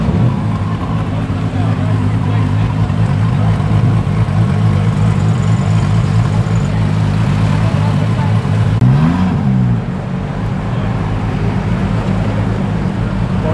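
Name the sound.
SRT car engine revving leaving car show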